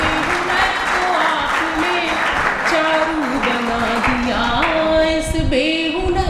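An audience at a Hindi poetry recital claps steadily for several seconds, a dense, continuous applause with voices murmuring and talking over it throughout.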